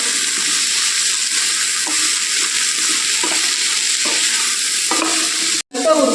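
Palak chicken with coriander leaves fries in a pan, with a loud, steady sizzle and regular scraping strokes of a ladle stirring the masala, then a brief sharp break near the end.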